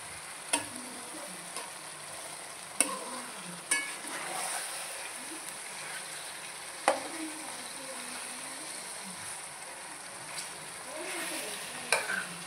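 Pieces of bangaru teega fish fry in a pan with a steady, fairly quiet sizzle, while a utensil turns them, producing a handful of sharp clicks and scrapes spaced irregularly throughout; no one speaks.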